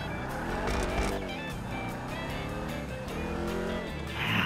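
A car in GTA 5 drives through a zigzag parkour skill test, its engine droning and rising in pitch as it accelerates. Tire noise and brief squeals come through, and a short burst of added noise closes the clip.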